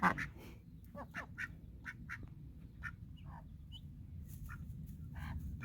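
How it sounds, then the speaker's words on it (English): Ducks quacking repeatedly in short nasal bursts, some near and some farther off, over a low steady background rumble, on a farm with chicks, goats and a turkey. "The ducks are checking it out."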